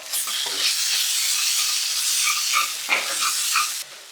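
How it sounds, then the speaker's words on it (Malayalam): Spice powder roasting in a hot pan for squid roast, a loud steady hiss of sizzling with soft scraping stirs running through it, close up and continuous until it drops away at the end. "ഇനി നമുക്ക് ജസ്റ്റ് ഒന്ന് ചൂടാക്കി എടുക്കാം ഒന്ന് മൂപ്പിച്ചെടുക്കാം"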